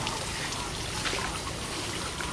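Water flows and trickles steadily, a continuous broadband rush with no pauses and no voices.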